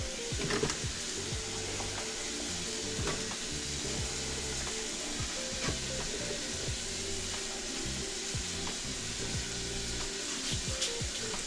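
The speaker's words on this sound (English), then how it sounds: "while the tenderloin is being cooked" Beef tenderloin searing in a Ninja pressure cooker, a constant close hissing sizzle with scattered small pops and crackles running steadily throughout.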